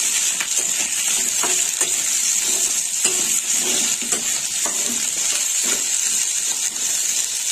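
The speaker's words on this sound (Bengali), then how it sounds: "সবজিগুলো একটু নেড়ে চেড়ে দেবো" Mixed vegetables fry in a pan and get stirred with a spatula, making a continuous sizzle with scraping and clinking of the utensil against the pan, close and fairly loud.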